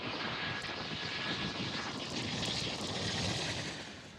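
Airplanes landing at an airport with long runways in winter weather, a continuous broad roaring engine rush that swells and fades slightly, steady and moderately distant, with no voices.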